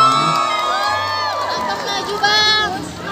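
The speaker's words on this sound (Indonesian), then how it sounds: "Saya mohon berikan tepuk tangan yang sangat meriah." Cheering from the audience at a live pop concert at a festival in Banjarbaru, a loud, steady roar of shouts and whoops that swells near the end, with voices calling out over it.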